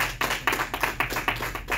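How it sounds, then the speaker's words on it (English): A church congregation gives a clap offering during worship, with a rhythmic run of about eight group claps spaced in a steady beat, fairly close and unaccompanied. "Let's give the Lord a clap offering."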